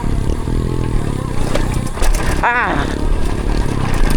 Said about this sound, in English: It's fun on the dirt bike.